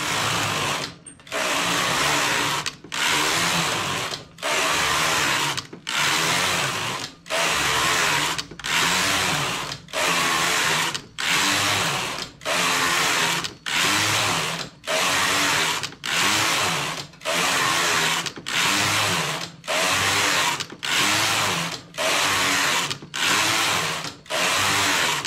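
A knitting machine knits ribbed fabric for a hat, its carriage swept back and forth in regular passes of about a second each, a loud, even mechanical whir broken by brief pauses between rows, close by and without speech.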